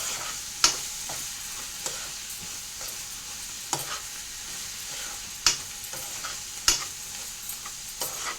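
Food fries with a sprinkle of chilli powder, giving a steady soft sizzle broken by a few sharp clinks of a spoon stirring against the pan.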